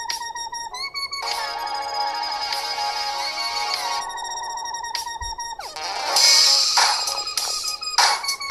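A ringtone plays from the speaker of an Oukitel U18 smartphone, a bright electronic melody of stacked tones that changes pattern partway through and grows louder near the end, with no talking.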